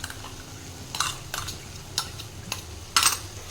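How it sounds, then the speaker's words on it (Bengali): A spoon works yogurt into a buttery paneer gravy in a pan, with a handful of separate, quiet scrapes and clinks spaced out over a soft low background and no talking. "দইটা দিয়ে আমি ভালো করে নেড়ে নেব যাতে দইটা ফেটে না যায়।"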